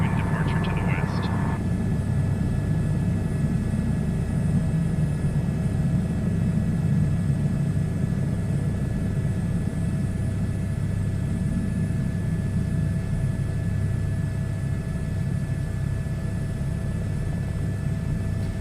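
Piper light aircraft engine droning steadily during a runway 28 departure in a flight simulator game, a continuous low rumble held at even loudness throughout, with a brief higher burst near the start.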